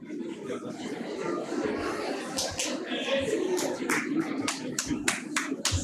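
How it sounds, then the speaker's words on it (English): Conference delegates applaud in a hall in Bhubaneswar, a dense patter of many hands clapping at moderate distance, with a low murmur of voices underneath and a few louder claps near the end. "Big round of applause for ma'am"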